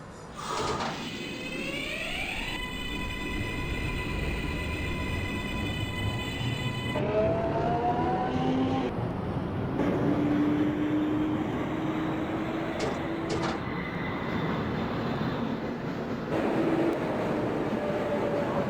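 A Brooklyn-bound J subway train in the Openbve train simulator, with steady rolling rumble, rising whine of the motors, and tonal chimes and beeps layered over the running noise.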